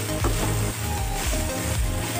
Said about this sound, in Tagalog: Ang gagawin naman ngayon natin guys, pagmamantikain natin itong pork.